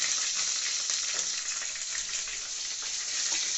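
Black cumin and bay leaf sizzle in a spoonful of hot oil with a steady, close hiss and light stirring, and no voices.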